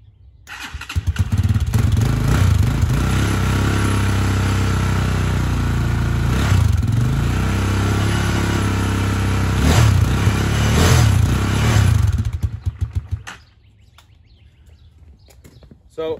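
A motorcycle engine with an oil-burning condition and a recently repaired exhaust manifold starts and settles into a loud, lumpy, throbbing idle for about twelve seconds before shutting off, leaving quiet.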